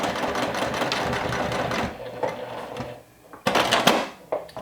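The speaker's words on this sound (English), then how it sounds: "So I'm just going to do a stitch again close to the edge" Sewing machine stitching close to the edge of a handmade crossbody bag, a close whirring run that stops briefly, then short bursts of stitching with a few clicks and pauses; no talk over it.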